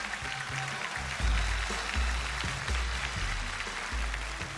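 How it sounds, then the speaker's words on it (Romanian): Audience applause for a comedian introduced on a Romanian stand-up comedy stage, a steady wash of clapping lasting several seconds with low thumps of stage noise underneath. "Doamnelor și domnilor, aplauze pentru Patricia Nedelea!"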